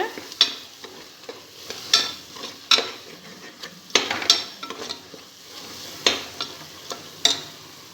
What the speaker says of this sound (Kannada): ಈಗ ಅದನ್ನು ಹಾಕಿ ಚೆನ್ನಾಗಿ ಮಿಕ್ಸ್ ಮಾಡೋಣ